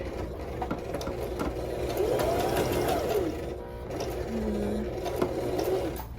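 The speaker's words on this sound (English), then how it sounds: "I like to do about 8 stitches across before adjusting the button and doing 8 more on the lower set" A sewing machine stitches a misses' top with thread in the bobbin, running as a steady mechanical whir for several seconds with a brief pause partway through, close and fairly loud.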